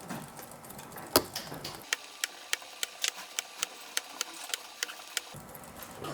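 Sewing machine zigzag stitching across raw denim jeans during a repair, a steady series of sharp, evenly spaced needle ticks running close and clear for several seconds, with quieter handling sounds before and after.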